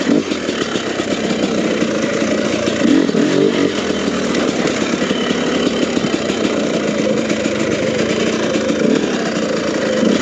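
A 2022 TM EN300 fuel-injected dirt bike with throttle-body injection, a screened spark arrestor and slight throttle hesitation, roars steadily and loudly while being ridden, its engine buzz constant and close with no speech over it.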